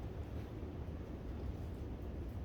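Steady, chilly wind blowing outdoors, a constant low rumbling rush buffeting the microphone with no voices.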